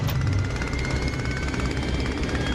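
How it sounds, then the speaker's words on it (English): The rotary engine of a Sopwith Camel biplane in flight in the DCS combat flight game, a continuous rough droning buzz with a pulsing propeller texture, loud and steady throughout. "I love how I rip this thing around like it's a high-performance airplane"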